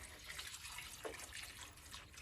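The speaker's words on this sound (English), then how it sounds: "What I'm going to do is add 2 quarts of water" Water pours into a pot of chicken bones and necks, a steady soft rushing splash that carries on evenly for a couple of seconds, fairly quiet and close.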